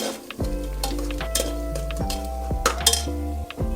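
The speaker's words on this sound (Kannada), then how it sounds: "ಅದಕ್ಕೋಸ್ಕರ ಇದಕ್ಕೆ ಹಾಕ್ಕೊಂಡು ಚೆನ್ನಾಗಿ ಹುರ್ಕೋಬೇಕು" Raw mint, coriander leaves and green chillies are stirred in a pan for pea pulao, with metal utensils scraping and clinking against the pan over a steady low hum and faint sizzling.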